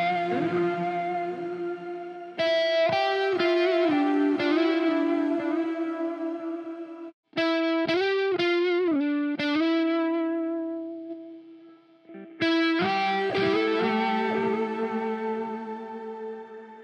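Distorted electric guitar through a Gojira amp plugin with a gritty, effected tone, playing chord stabs and ringing notes in several phrases separated by short gaps, with sustained tails between.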